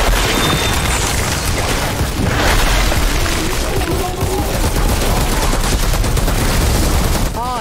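Rapid hip-fired gunfire from a weapon in the video game Outriders, a dense, continuous barrage of loud shots and booms with no pauses, layered over game effects.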